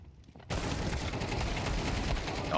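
Pistol gunfire in Counter-Strike on the Nuke map cuts in abruptly as a dense, continuous burst of overlapping shots and rattling fire, loud and sustained to the end.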